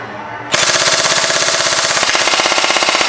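An Elite Force MP5 airsoft gun fires on full auto: a sudden, loud, rapid and steady stream of shots that runs unbroken for about two and a half seconds, close to the microphone.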